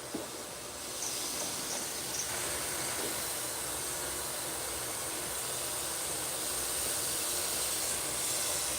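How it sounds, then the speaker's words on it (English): A touch-up spray gun lays down red paint in a steady, close hiss that starts after about a second and holds without a break to the end. "I'm just coming in with the touch-up gun"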